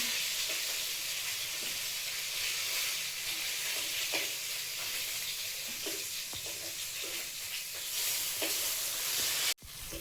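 Chopped ginger sizzles steadily in hot oil as a spice tempering for a fish curry, with a few soft stirring scrapes over the constant hiss and a sharp knock near the end.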